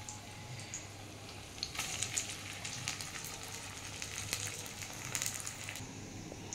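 Flattened rice (chira) pakoras fry in hot oil with a faint, steady sizzle broken by light crackles and pops.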